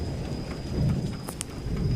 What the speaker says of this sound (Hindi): बारिश इसी तरह से ही जारी रहती है